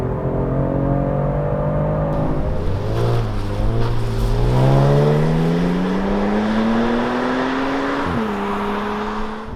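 A Genesis G70 in Sport Plus mode accelerating at full throttle, engine tone rising steadily through a long pull with a brief drop at a gear change before climbing again, loud and continuous from inside the cabin.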